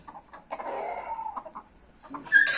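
An Indian breed rooster clucks and calls nearby in a short run of throaty notes, with a sharper squawk rising at the very end.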